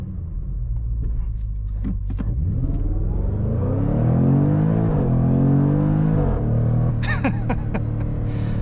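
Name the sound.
supercharged car engine accelerating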